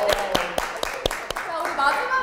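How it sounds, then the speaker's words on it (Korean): An audience claps at a student talent event welcoming a student to the stage, with sharp, evenly spaced claps from a small group, then a voice talking over the end. "박수로 맞아주세요"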